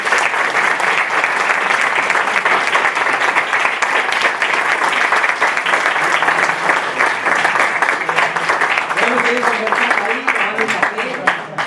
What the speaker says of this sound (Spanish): yo pido un aplauso para nuestras dos disertantes